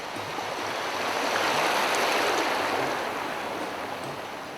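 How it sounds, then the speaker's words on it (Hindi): Broad, steady roar of sea waves where the Ganga meets the ocean, a continuous rushing wash that swells slightly in the middle and stays full throughout. "गंगा की धारा को अपने आप में समेटने को बेताब सागर की लहरें गर्जना करती हैं।"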